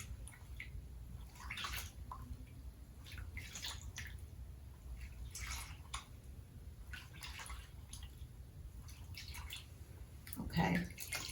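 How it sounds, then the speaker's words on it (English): A wig is dipped in and out of a basin of dye water during coloring, giving soft sloshing and dripping splashes at irregular intervals, close and fairly quiet, with one larger splash near the end. "When you dip the wig in and out of the water, it actually grabs the color better"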